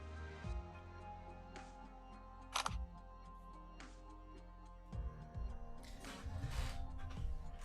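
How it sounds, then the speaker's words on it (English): Camera shutter clicks in the Arknights game, a few crisp mechanical clicks at separate moments over a soft sustained music bed. "Raise the camera and press the shutter button."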